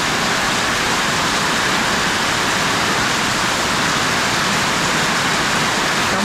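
Heavy rain pours steadily during a violent storm with flooding water, a dense, loud, unbroken hiss filling the whole stretch with no voices.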